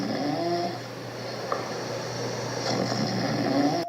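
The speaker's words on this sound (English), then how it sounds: "So now let's test the real snoring sound that I take from YouTube." Recorded human snoring played back through a speaker, a steady droning rasp with a constant low hum and faint hiss, continuous and fairly loud throughout with no speech.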